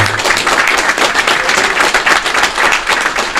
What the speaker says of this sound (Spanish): Ese aplauso es muy bien merecido.